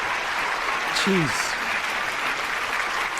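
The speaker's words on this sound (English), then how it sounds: "I didn't know that you were going to cheer like that." An audience applauds and cheers steadily as a broad wash of clapping, with someone speaking briefly over the noise.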